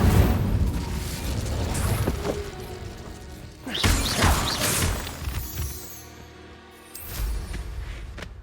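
Spellcasting in Hogwarts Legacy, the Incendio fire spell among them: a run of sharp magical bursts, crashes and shattering impacts, loud and irregular, separated by brief quieter gaps with no talking.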